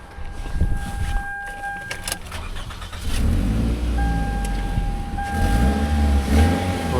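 A car engine with an exhaust leak up front idles and revs with a rough, puffing rumble, loud and close, with a brief whine near the start.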